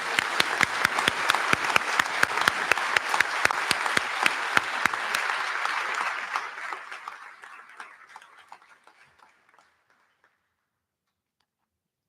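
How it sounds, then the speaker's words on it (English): Applause for award recipients at a college honors convocation: a crowd claps with distinct sharp claps, strong for about six seconds, then trails off into scattered claps and fades to silence. "Let's give them a round of applause."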